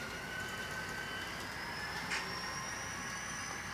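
A DCC model train locomotive running on its track: a faint, steady electric motor whine with thin high tones and a soft rolling hum, continuous and even, close and quiet, with no talking.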